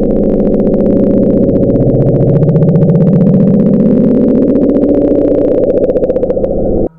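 Bloop, the low-frequency underwater sound recorded in the South Pacific near the equator in 1997, a loud, deep sustained rumble that slowly sweeps upward in pitch for several seconds, then ends abruptly.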